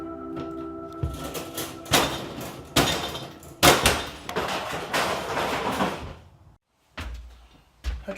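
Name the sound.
hammer breaking plastic overhead bins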